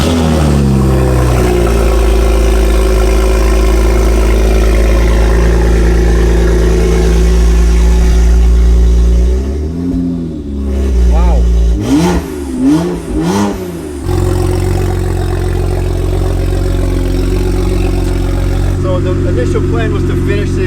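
A car with an 18-inch turn-down exhaust revs loudly and steadily for a long stretch, then eases off and gives a few short throttle blips before settling into a lower, rougher drone.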